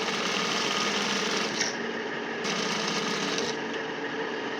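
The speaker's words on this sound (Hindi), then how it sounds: "इस तरह से सिलाई चलानी है" A sewing machine stitching elastic into the waistband of culotte trousers, running as a loud, steady, close buzzing whir that briefly shifts in pitch as the speed changes.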